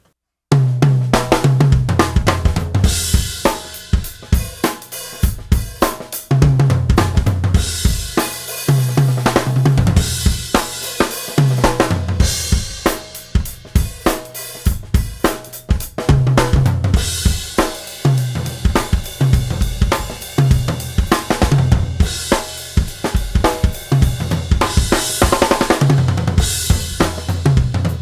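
A full drum-kit groove featuring a 13-inch tom with both heads tuned up a whole step. The tom fills ring out bright and punchy among loud, continuous kick, snare and cymbal hits.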